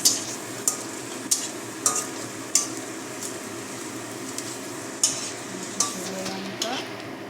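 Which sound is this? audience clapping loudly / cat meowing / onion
onion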